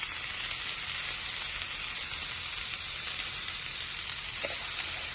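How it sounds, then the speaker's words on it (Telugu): Broccoli with ginger garlic paste sizzles steadily in a hot pan, a dense continuous frying hiss with faint stirring, no voices. "జింజర్ గార్లిక్ పేస్ట్ వేసి బ్రోకలీ వేసి ఇట్లా కలుపుకొని"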